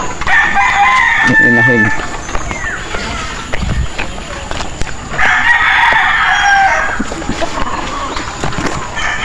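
Hens cluck, including a brooding hen sitting on eggs, and a rooster calls nearby during feeding time while someone speaks over the farmyard noise.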